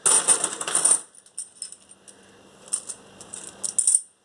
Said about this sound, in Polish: będziemy musieli troszkę posegregować te monety.